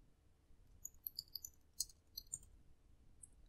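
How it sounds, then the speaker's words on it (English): Light, quick clicks of typing on a computer keyboard come in a short irregular burst near the middle, faint and close, with a low background hum and no talking. "Now type here control panel."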